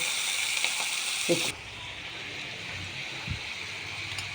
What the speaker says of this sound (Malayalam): ഇതിനകത്തേക്ക് നേരെയാക്കി വെച്ചിരിക്കുന്ന ഞണ്ട് ഇടുക.